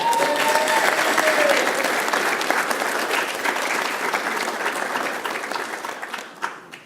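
An audience at a graduate degree commencement applauds, a dense sustained clapping that gradually thins and fades out near the end.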